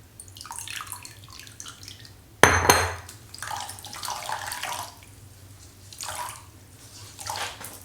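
A towel is dipped and swished in a bowl of hot water, with a sudden splash followed by intermittent sloshing and dripping close by.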